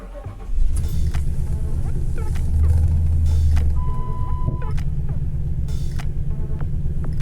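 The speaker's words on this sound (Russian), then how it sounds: "Сейчас я заведу автомобиль" An automatic-transmission car whose gear selector is stuck in park is started; the engine catches with a burst about half a second in, then settles into a steady low idle rumble, with a short tonal beep partway through.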